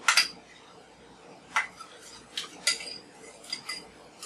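A knife clicks against a board while cutting a block of unflavored gelatin into small squares for gummy bears, a handful of sharp taps spaced irregularly over a quiet background.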